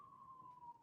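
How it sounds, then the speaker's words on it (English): A passing emergency vehicle siren is heard as a single steady tone, faint and distant, holding level for under a second before cutting off abruptly. "I don't know if you guys can hear the sirens"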